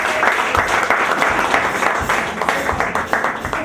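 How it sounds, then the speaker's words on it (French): A graduation ceremony audience bursts into lively applause, dense rapid clapping filling the room at close range and holding steady for several seconds. "Sur vos acclamations."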